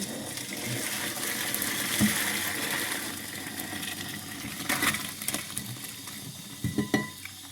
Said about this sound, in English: I have cold water running.